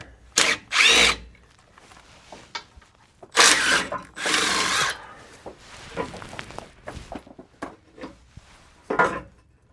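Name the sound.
power tool removing bolts under RAM 1500 truck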